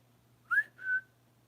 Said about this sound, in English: Hear the whistle.